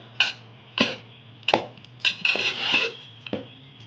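Spoon scraping and clinking against a pot while mixing mango pulihora rice, in several short separate bursts with a steady low hum underneath and no talking.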